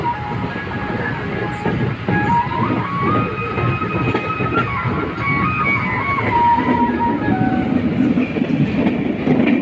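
Madhumati Express with LHB coaches rolling steadily toward Ishwardi Junction, a continuous rumble with rhythmic wheel clatter and faint tonal squeals, heard close from inside the train.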